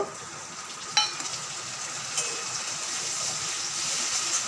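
Ginger and chopped tomato hit hot oil in a pan as a fish curry is cooked, giving a steady, close sizzle with a couple of sharp clinks of stirring early on.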